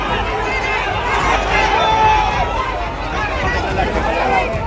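An unruly, angry mob surges around a police vehicle, a dense roar of shouting voices and running feet close and loud throughout, with overlapping agitated speech.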